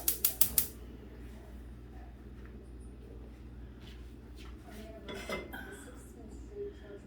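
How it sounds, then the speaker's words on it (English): A saucepan set down on a stove for making creme brulee: a quick burst of metallic pot clatters at the start, then quiet kitchen background with faint cooing birds. "So I just got a saucepan, and we're gonna put it on."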